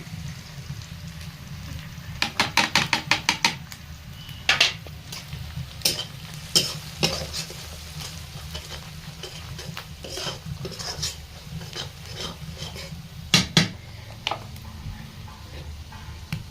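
Chicken pieces fry in a pan with chilli, turmeric, cumin and salt being stirred in. A continuous low sizzle sits under irregular clattering spatula scrapes and knocks, with bursts of rapid clicks near the start and end.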